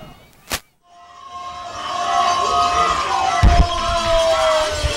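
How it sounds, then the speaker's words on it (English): Crowd cheering and shouting at a youth rowing regatta, the U.S. Rowing Youth National Championships women's four semifinal, heard from a finish tower above. The sustained roar swells across the clip, with a sharp knock near the start. "You can hear the crowds down below as Bromfield Acton Boxborough and Manhasset battling it out for first and second"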